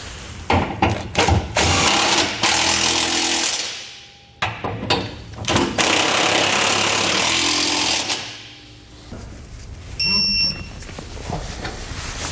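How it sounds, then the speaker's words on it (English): Power tool bursts tightening and torquing hardware on a Curt trailer hitch for a 2020 Chevrolet Colorado, loud repeated rattling impacts in several spaced runs with short pauses and a beep near the end. "we can go ahead and tighten and torque our hardware"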